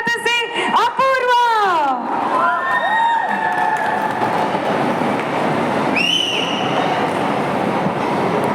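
Loud crowd cheering and applause at a Kannada film event greeting the lead actress of Sutradhari on stage, a dense continuous roar with music swelling at the start and whistles or shouts rising above it.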